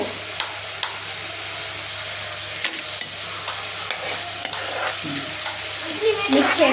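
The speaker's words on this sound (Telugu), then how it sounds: "ఇక్కడ బాండలో ఆయిల్ వేసింది. ఆనియన్స్ వేయాలి. మిక్స్ చేయండి బాగా." Sliced onions fry in hot oil in a kadai for a mushroom curry, a close, continuous sizzle broken by a few sharp taps and scrapes of the spoon as they are stirred.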